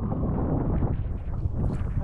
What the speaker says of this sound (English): You can hear the wind gusting